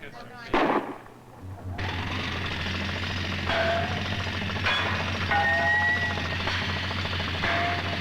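A steam drill's mechanical hammering din rumbles steadily with a low droning hum, sharp metallic clanks and occasional whistle-like tones over a busy, noisy background.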